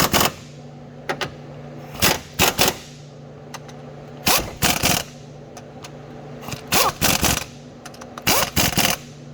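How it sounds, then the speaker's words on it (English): Cordless impact gun tightening 15 mm bolts on a new water pump of a 2016 Chevrolet Cruze LTZ, in repeated short bursts of rattling hammering with brief pauses between them, close and fairly loud. "15 millimeter, and I am using my impact gun"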